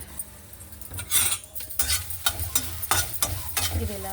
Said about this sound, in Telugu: ఇది ఇలా సిమ్లో బాగా వేగిన తర్వాత